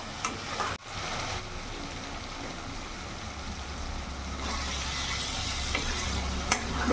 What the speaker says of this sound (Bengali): এখন আমি ভালো করে সব মশলা উপকরণ ভালো করে কষিয়ে নেবো যতক্ষণ না তেল ছাড়ছে।